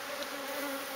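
Bees buzz steadily around a beehive being removed from inside a metal drum, a dense continuous drone held close and loud throughout.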